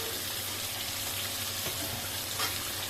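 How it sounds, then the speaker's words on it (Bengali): Spices for a taro leaf curry fry steadily in a pan for a Bengali dish of taro leaves and prawns, giving a continuous close sizzle with faint stirring scrapes, and no voices. "সবগুলো মশলা পরিমাণ মতো দিয়ে এখন ভালো করে কষাই নিব।"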